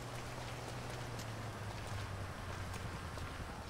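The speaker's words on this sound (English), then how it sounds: "Wow, it's really rainy." Steady rain pours in a Grand Theft Auto V game world, a dense, even hiss of falling water with a faint low rumble beneath, no voices.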